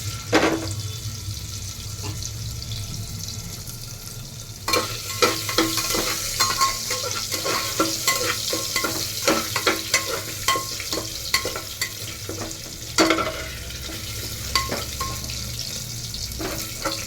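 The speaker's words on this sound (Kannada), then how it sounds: "ಪನ್ನೀರ್ ಚೆನ್ನಾಗಿ ಫ್ರೈ ಮಾಡ್ಕೋಬೇಕು ಫಸ್ಟ್ ನಾವು." Paneer cubes frying in hot ghee and oil for paneer biryani give a steady sizzle, with repeated scraping clicks and knocks as a spoon stirs them, growing busier partway through.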